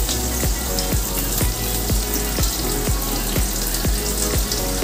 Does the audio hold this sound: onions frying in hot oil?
yes